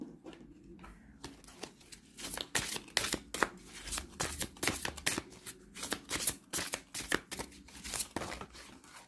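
A Chemin pavé d'or oracle deck is shuffled by hand close up, a quick run of crisp riffling and flicking card sounds with brief pauses, fairly quiet and with no talking.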